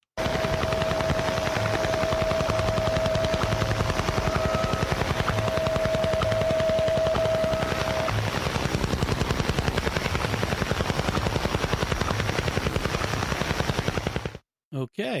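A harsh, rapid pulsing buzz from the Soviet over-the-horizon radar known as the Russian Woodpecker, heard on radio, repeats about ten times a second with a faint steady tone partway through, then stops abruptly.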